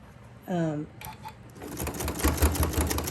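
Sewing machine stitching a zipper pouch, starting after a short voiced sound and running as a steady, faint mechanical rattle of rapid stitches in the second half.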